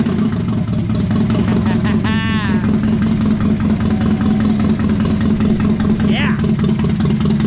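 Mazda Miata engine idling steadily on its own, a constant low rumble throughout with brief voices speaking over it.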